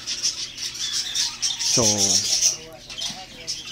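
Pet parakeets and lovebirds keep up a busy, high chirping throughout, broken by one loud, harsh squawk near the middle. A voice briefly says a single word.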